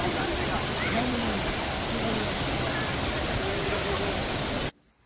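Horsetail Falls, a waterfall in Oregon, pouring down from height into shallow water: a steady, dense rush of falling water with no break, loud and close, cutting off just before the end.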